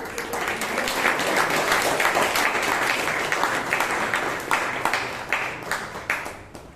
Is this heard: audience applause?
yes